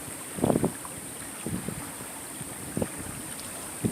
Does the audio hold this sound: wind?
yes